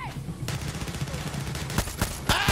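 Gunfire in the Far Cry 6 shooter game, a dense stream of shots over loud game noise with a few sharper cracks toward the end.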